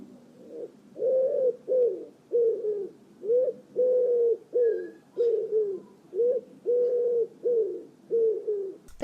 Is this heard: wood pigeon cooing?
yes